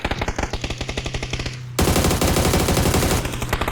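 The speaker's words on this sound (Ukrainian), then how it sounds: "О, авік вже стріляє знову." Rapid automatic assault rifle fire in PUBG, loud and close, with one rattling burst running straight into a denser, louder volley.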